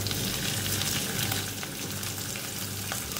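Garlic ginger paste frying in a pan with onions in an Indian aloo chana curry, a steady, dense sizzle with occasional crackles, close and constant.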